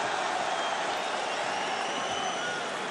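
Crowd at a Bellator MMA event reacting during a guillotine choke attempt, a steady roar of cheering and shouting voices at a constant, loud level without breaks.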